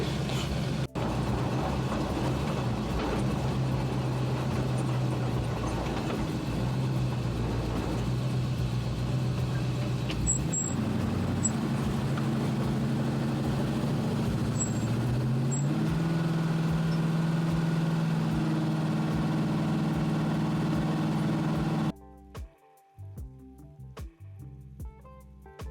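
An all-wheel-drive Chevrolet C10 truck with a chassis swap cruises around the block, its engine rumbling steadily and rising in pitch as it accelerates, before the sound cuts off abruptly near the end.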